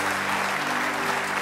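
Church congregation clapping their hands in praise during a Sunday service, a short dense burst of applause with a low hum underneath.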